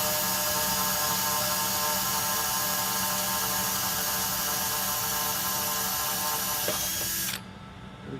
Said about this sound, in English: I'm going to start with a real small drill bit.